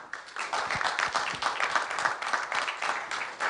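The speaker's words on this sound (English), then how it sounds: "And a very warm clap for my panel." Steady applause from a conference audience for a panel, a dense wash of many hands clapping at moderate loudness, continuous for the whole stretch with no talk over it.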